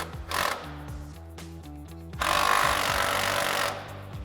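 A power tool drives the sway bar end link nut on a 2021-2023 Bronco during a Fabtech leveling kit install, heard as loud close rattling hammer bursts in two stretches with a brief pause between.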